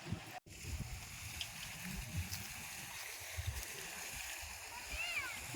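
Water rushing and splashing steadily in the background, a continuous churning wash with people talking faintly over it.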